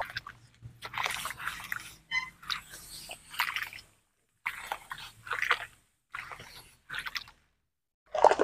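Sand kneaded and washed by gloved hands in water, wet squelching and gritty crunching in bursts with short pauses, close up and without speech.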